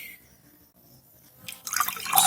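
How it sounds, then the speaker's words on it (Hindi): Water poured into a glass, filled about halfway, as a home science experiment with ENO and shampoo; a quiet start gives way to a rising splashing pour in the last second. "तो हमें सबसे पहले ग्लास में लेना होगा पानी"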